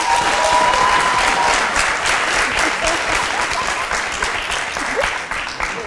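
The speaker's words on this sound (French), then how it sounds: "Merci d'applaudir pour Roméo." A studio audience at a television variety show applauds steadily for several seconds, dense sustained clapping close and loud that tapers off slightly toward the end.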